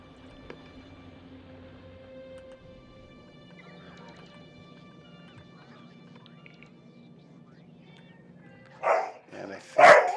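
A dog barks twice near the end, two loud close bursts after a stretch of quiet background hum.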